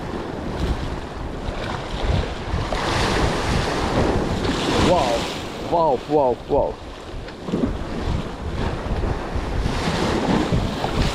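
Wind gusts and crashing sea surf roar close to the microphone while fishing from shore, while a person exclaims excitedly several times in the middle.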